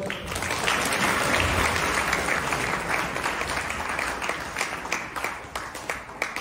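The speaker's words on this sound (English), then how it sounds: "A huge round of applause for that, first of all." A big crowd at a college orientation gives a round of applause, loud and dense from the start, then thinning into more scattered individual claps toward the end.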